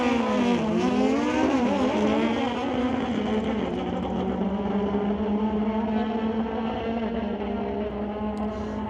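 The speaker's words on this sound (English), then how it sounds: "Both bikes fired to the quarter mile." Two drag racing motorcycles launching down a quarter-mile strip at an NHRA Summit ET race, a loud sustained engine howl with rising and shifting pitch, heard at a distance.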